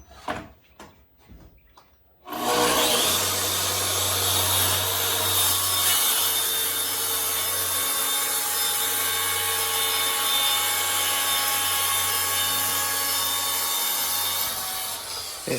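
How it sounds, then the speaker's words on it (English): Makita track saw cutting through wood for a river table form: after a few light knocks, the saw spins up and keeps a loud, even cutting whine for over ten seconds, then starts to wind down. "This is a Makita track saw that we're using."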